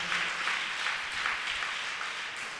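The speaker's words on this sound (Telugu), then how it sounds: "చప్పట్లు కొట్టి దేవుని స్తుతిద్దామా?" Church congregation claps in praise, a soft, even wash of many hands heard from some distance, with no voices over it.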